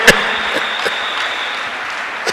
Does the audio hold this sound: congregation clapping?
yes